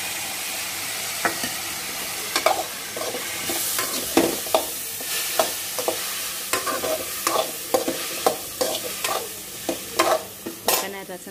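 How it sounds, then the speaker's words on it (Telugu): Mixed vegetables with green peas fry in a pan, a steady sizzle broken by repeated sharp scraping and stirring knocks of a spoon against the pan, close and fairly loud with no talking. "ఈ మిక్స్ వెజ్ వేగేటప్పుడు అండి వేగుతున్నాయి కదండి"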